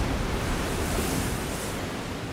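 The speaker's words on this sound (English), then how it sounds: "as you can see, the waves are crashing in" Storm waves crashing in around an offshore oil rig, a dense, steady roar of surf and wind that fills the whole clip without letup, loud and close.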